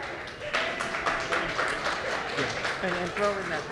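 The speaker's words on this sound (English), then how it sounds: "Come on up, and round of applause." Audience applause at an Astronomy on Tap science pub event in San Antonio, Texas, a moderate burst of clapping from a small crowd mixed with voices and chatter.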